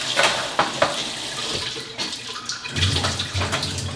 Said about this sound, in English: You just dump it upside down and rinse it off.